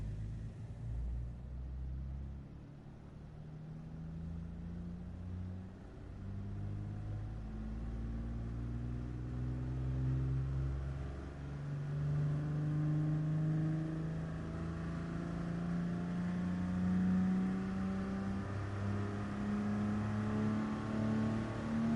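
A racing game car engine held at full throttle on the Nürburgring, a steady loud drone whose pitch climbs gradually through rising gears across the whole stretch, with no voices.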